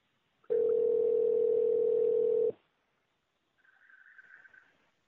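A telephone line gives a loud steady dial tone for about two seconds, then after a short silence a fainter warbling ring sounds once, with no one speaking.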